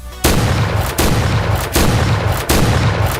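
UTS-15 shotgun blasts in the Point Blank shooter game, four loud booming shots fired in quick, evenly spaced succession with short decays between them.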